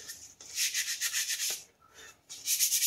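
An orbital sander rubs over the layer lines of a 3D print in short, soft scratchy bursts with brief pauses between them, close by and quiet.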